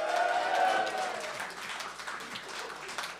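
Theatre audience at the Théâtre Ste-Catherine giving a short round of applause that starts with a brief voice and fades to scattered clapping.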